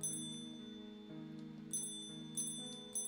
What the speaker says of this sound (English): gentle and pleasant bell sound